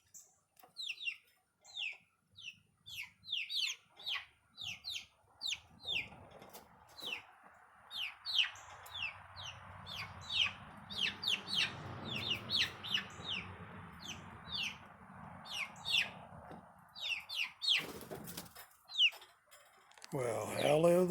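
Chicks looking to roost near a tractor shed: many rapid high peeping chirps and soft clucks repeat continuously and fairly close, with a low rumble and a voice talking underneath toward the end.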